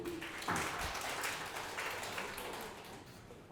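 Audience applause at a Seongsu forum in Korea, moderately loud dense clapping that fades gradually over a few seconds, with no speech over it.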